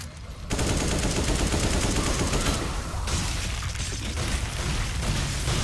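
Rapid AK rifle fire in Resident Evil 5 co-op gameplay, a loud, dense, continuous burst of automatic gunfire lasting several seconds.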